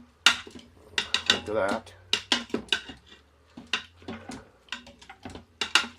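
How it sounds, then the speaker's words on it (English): Sauerkraut and sausage stirred in an Instant Pot, a spoon clinking and scraping against the metal insert in short irregular bursts, close up, with a person speaking briefly. "So I'm just going to give it a little stir here."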